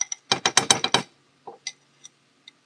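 Custard being whisked into eggs for a coconut sugar banana pudding: a quick run of close, rhythmic clinking whisk strokes, then a few sparse taps and clicks.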